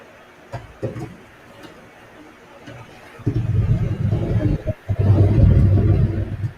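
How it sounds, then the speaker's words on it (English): A thunderstorm's deep rumble swells and rolls on for several seconds, loud and low, after a quieter stretch with faint taps. "Sorry for the thunderstorm if you hear that."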